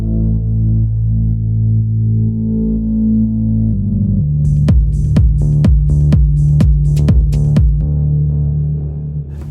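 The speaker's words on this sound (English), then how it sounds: "I recorded a drone sound with the Moog synthesizer" A deep, heavy Moog synthesizer drone hums steadily, then a rhythmic pulsing pattern of sharp clicks joins in before fading slightly at the end.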